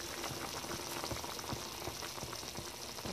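Potato and chicken sauce simmers steadily in a pot, a dense continuous bubbling and popping with no talk over it.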